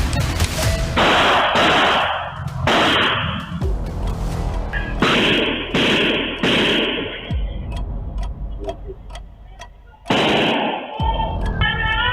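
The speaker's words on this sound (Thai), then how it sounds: "เป็นวินาทีเสียงปืนดังขึ้น 12 นัดซ้อน" A rapid series of twelve sharp gunshots sounds through a noisy Thai news broadcast, with loud bursts and clicking between them.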